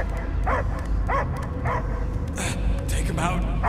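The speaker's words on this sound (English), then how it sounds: "I hear only barking." Several sharp dog barks in a row in a video game, over a constant low rumble of background noise, with a brief whine near the end.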